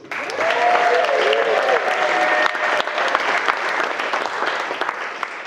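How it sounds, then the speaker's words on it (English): Wedding guests applauding the bridesmaids during the speeches at Lulworth Castle, a loud, dense round of clapping from the whole room that holds steady for several seconds, with a few cheers and voices rising above it. "I think they all deserve a big round of applause"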